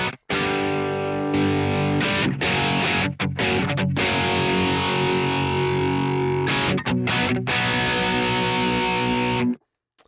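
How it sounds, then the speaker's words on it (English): Seven-string electric guitar played through the McRocklin Suite plugin with a Mesa Boogie-style distortion, heavy low-end chugging chords sustained for about nine seconds with brief stops, loud and close with no talking. "I would say that's more of the Mezza Boogie style, kind of filthy low end kind of sound."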